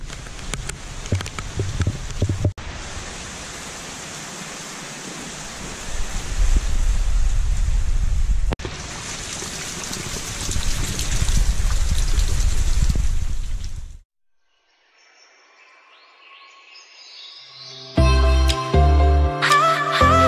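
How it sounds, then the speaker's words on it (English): Rain falls outdoors on a university campus, a steady loud hiss of heavy rain that carries on for most of the stretch before dropping away, followed by brief tonal clatter near the end. "Rain is a blessing."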